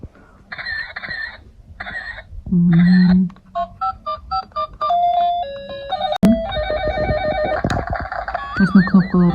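A child's toy telephone plays a run of electronic beeps, ringing tones and short jingles, with spaced button beeps followed by warbling melodic ringing, close and fairly loud.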